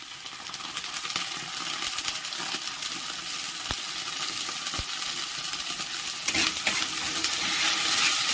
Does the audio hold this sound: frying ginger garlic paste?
yes